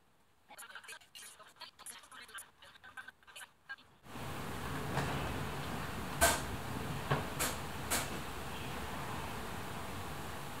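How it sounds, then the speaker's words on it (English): Doors rattle and a fan runs hard during Typhoon Hagibis, a steady roar of wind and fan noise with several sharp knocks and rattles from the shaking doors, following a quieter stretch of faint shuffling. "My doors are starting to shake. My fan's going crazy in the background."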